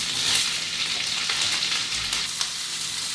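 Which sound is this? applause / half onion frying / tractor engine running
half onion frying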